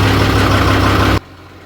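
A 55 kVA manual generator engine runs loud and close with a steady low droning hum, then drops abruptly to a much quieter level partway through.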